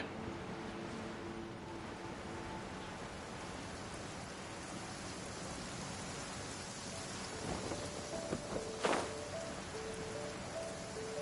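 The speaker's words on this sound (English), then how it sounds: "Oh boy, it's raining." Steady rain with a low thunder rumble in Genshin Impact, a broad constant hiss with a few brighter crackles and a louder burst near the end, no talking.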